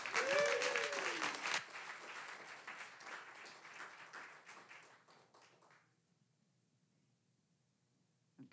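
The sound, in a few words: audience applause at storytelling event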